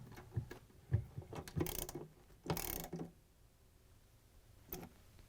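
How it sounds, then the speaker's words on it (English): Ratchet with a 10mm socket driving a bolt into a Samsung washer clutch assembly, quiet clicking strokes in short irregular bursts with a few louder ratcheting rasps, close and faint with no talk. "we can use the ratchet and the 10mm socket to put the rest in"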